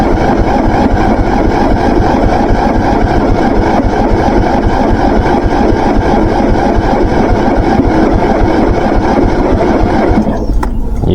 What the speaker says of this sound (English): So I think the engine's so cold that the battery is just too low to get it to fire over.